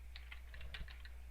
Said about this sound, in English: what we would do is we would simply type in the name of the file